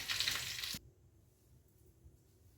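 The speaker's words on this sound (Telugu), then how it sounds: "ఇదంతా ఇప్పుడు ఇట్లా సిమ్లో పెట్టి వేయించేసుకుందాం మనం" Flaxseeds, curry leaves, dry chillies, peanuts and sesame roasting in a pan over a low flame, heard as a close, bright sizzle and crackle that cuts off abruptly after under a second, leaving a faint low hiss.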